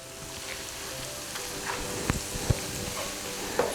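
Ginger and garlic frying in a pan for chana masala, a steady close sizzle with a few sharp pops and clicks of stirring, no voices.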